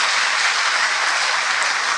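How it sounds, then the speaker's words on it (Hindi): An audience at a spiritual gathering bursts into loud, dense, continuous clapping with no pauses. "बहुत अच्छा, ताली बजाएं"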